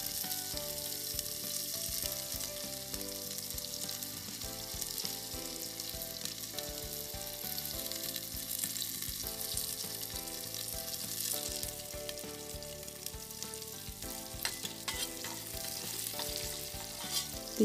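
Vegetables and cumin seeds frying in hot oil for khichdi, a steady dense sizzle with occasional crackles and stirring, continuous and close with no talking.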